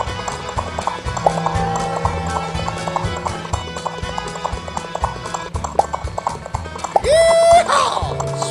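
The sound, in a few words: horse hooves clip-clopping while ridden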